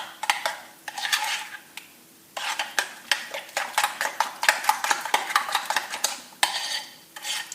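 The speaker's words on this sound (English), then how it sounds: "Just scramble it as if you were mixing eggs." Utensil stirs and whisks egg wash into a cream cheese mixture for a braided cheese Danish, with rapid, repeated clinks and scrapes against a bowl in uneven bursts, close and fairly loud, with no talking.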